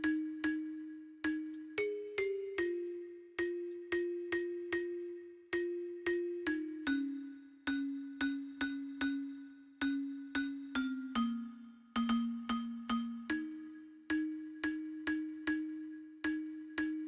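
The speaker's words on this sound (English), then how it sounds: "on the second bell, which was Celesta from Korg Triton" Celesta bell patch from a Korg Triton synthesizer playing a repeating melodic figure of bright, struck bell notes over a sustained low bass line, steady rhythm, clean and close with no voices.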